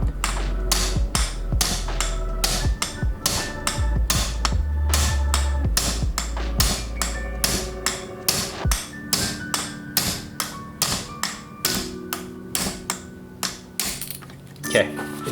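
Hammer tapping pins out of a Mazdaspeed 3 transmission during a rebuild: a long run of sharp metallic taps, steady at first and then spaced more evenly toward the end, close and fairly loud, with some low mechanical thumps early on.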